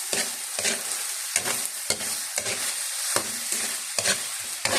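Chayote with oyster sauce sizzles in a hot pan while a utensil stirs it in a repeated scraping rhythm, close and steady with no talk over it.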